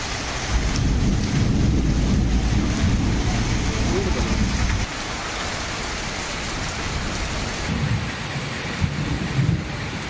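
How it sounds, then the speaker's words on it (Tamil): Heavy rain falls at night around Srivilliputhur, a dense, loud, continuous hiss mixed with wind buffeting the microphone, easing slightly partway through. "இரவு நேரத்தில் பெய்த கனமழையால் வெப்பம் தணிந்து"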